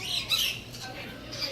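A talking bird at an aquarium lets out a short, shrill squawk at moderate distance over faint background murmur.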